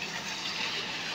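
A clear stream runs through a mountain village in northern Pakistan, its water rushing steadily and evenly with a soft broadband hiss throughout the short moment, close by and with no voices.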